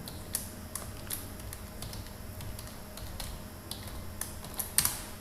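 Computer keyboard keys click one at a time as an SQL update command is typed, with irregular, fairly quiet taps spaced out and a small flurry near the end.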